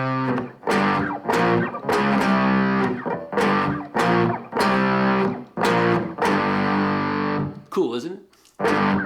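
One-finger power chords on distorted electric guitar chug through a riff in loud, choppy bursts of roughly eight short hits with brief gaps, closing on a faint trailing tail.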